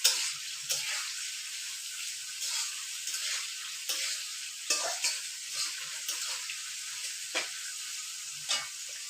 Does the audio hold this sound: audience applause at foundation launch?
no